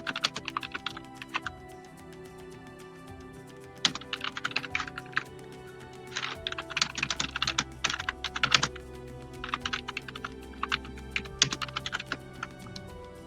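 Computer keyboard typing in quick bursts of close, clicky keystrokes separated by short pauses, with a soft steady hum underneath.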